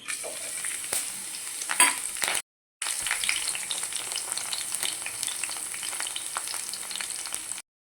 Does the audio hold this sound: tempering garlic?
yes